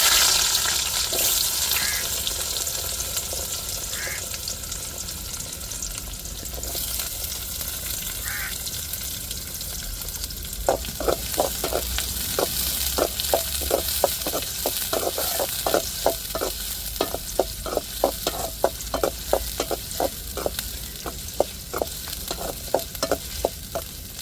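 Onions and whole spices such as cinnamon fry in hot oil for a soybean bean curry, giving a steady close sizzle that turns into quick rhythmic stirring scrapes partway through, with no talking.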